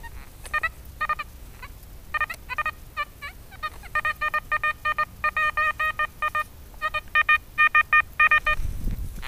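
A metal detector gives rapid, repeated electronic beeping bursts over a target that is probably a pull tab. The bursts come in quick uneven clusters, loud and close, with no talking.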